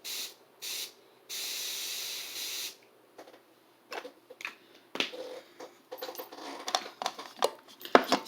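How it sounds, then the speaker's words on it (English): Dermatological water mist for sensitive skin, sprayed onto a makeup sponge: three short hissing spray bursts, then a longer one, followed by soft handling clicks and rustles close to the mic. "It's dermatological water mist for sensitive skin. So it's much like spray water."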